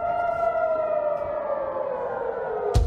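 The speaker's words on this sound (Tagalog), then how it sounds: "Dinig din ang sirena sa buong lugar, hudyat na may sasabog na raket o missile." An air raid siren wails over Jerusalem during a missile attack, its steady, slowly falling drone carrying loud and continuous, with a sudden sharp bang near the end.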